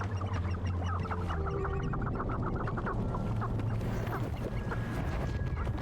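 Small chicken-like creatures cluck and chirp in Hogwarts Legacy, a busy run of short repeated calls over steady low game ambience, with no talk.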